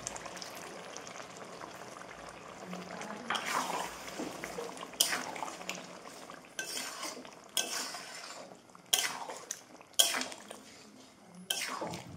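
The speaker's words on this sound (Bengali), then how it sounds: "ওইতেই পেনটা ধোয়া জলটা দিয়ে দেবো।" Rinse water from a washed pan pours into a cooking pot of palak chicken, a soft watery splash and rush with clinks of cookware and several sharp metallic knocks, close and moderately loud.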